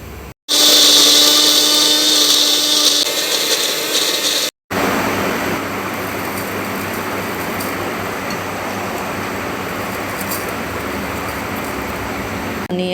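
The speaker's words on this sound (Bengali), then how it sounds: "রসুন কাঁচা লঙ্কা সব একসাথে পেস্ট করব। পেস্টটা যাতে স্মুথ হয় তার জন্য একটু" A mixer grinder whirs loudly as it blends garlic, green chilies and onion into a paste, a brief pause breaking the steady grinding before it restarts and runs on at an even level.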